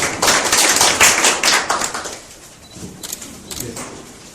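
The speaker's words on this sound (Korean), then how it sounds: "큰 박수로 우리 조홍서 회장님 맞이하겠습니다" Audience applause welcoming Cho Hong-seo, a chairman, to the stage at a Korean investment forum lecture: a burst of clapping from a modest crowd that fades after about two seconds, leaving a few scattered claps.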